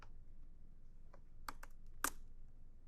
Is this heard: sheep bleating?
no